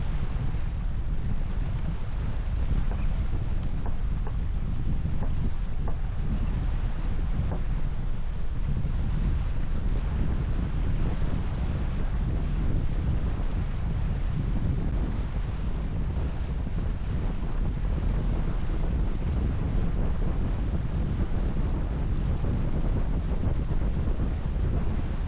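Wind roars steadily across a sailboat racing in the Drakes Bay race, buffeting the microphone with a constant dense rush. Water and hull noise mix underneath for the whole stretch, with no voices.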